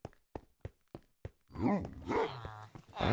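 Several short, sharp puppy barks from the Minecraft video game come in a quick, evenly spaced series, followed by someone talking over game sounds.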